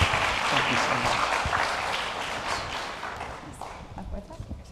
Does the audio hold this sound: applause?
yes